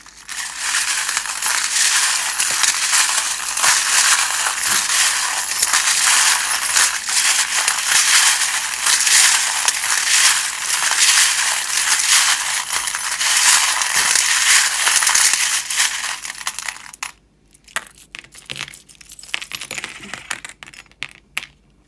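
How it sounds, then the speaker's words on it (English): Steady, dense crisp rustling and clicking of tarot cards being shuffled for about fifteen seconds, close up, then a few scattered taps before it stops. "Turn down the volume while I shuffle."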